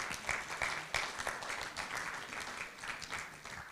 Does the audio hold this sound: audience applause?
yes